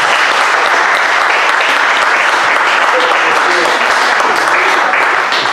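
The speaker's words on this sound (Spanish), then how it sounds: "¡Un aplauso!" Sustained applause from an event audience, steady dense clapping throughout, loud and near, with some voices mixed in.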